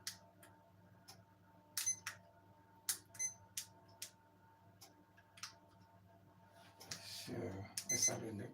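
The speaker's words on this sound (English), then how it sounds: "Let's put the timer." A kitchen timer being set while making homemade pizza margherita gives a string of short, sharp clicks and beeps at irregular intervals, followed by a louder rustling handling noise near the end over faint background hum.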